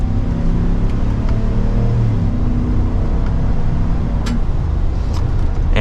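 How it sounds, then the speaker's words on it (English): A 2024 Chevrolet Silverado 1500 ZR2 pickup engine accelerating in second gear with a low, steady rumble and rising drone, heard from inside the vehicle with road noise. "we'll go to second gear and give it an acceleration."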